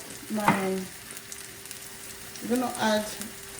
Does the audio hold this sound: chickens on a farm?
no